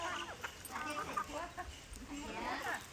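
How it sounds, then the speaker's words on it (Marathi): Chickens cluck faintly as they are fed at a village house, soft scattered calls mixed with people talking nearby. "ती टाकते आता कोंबड्यांना खायला."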